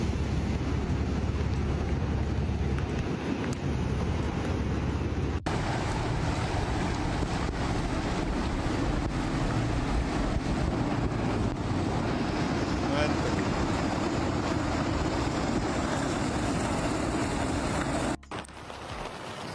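Floodwater of the Guadalupe River in Texas rushes in a loud, continuous broadband roar, steady throughout with heavy wind buffeting on the microphone and a brief dropout near the end.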